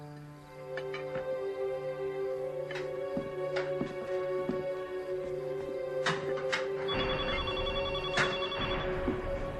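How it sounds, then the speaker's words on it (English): A telephone rings with repeated steady trilling bell bursts, clear and close, running continuously with a rising background rumble toward the end and no talking. "That evening, Chester and I received a phone call."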